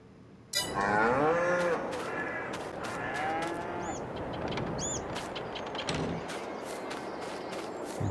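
Cows mooing in a free-range pasture in Farming Simulator 22, several long lowing calls one after another over an ambient outdoor bed with faint bird chirps and scattered clicks.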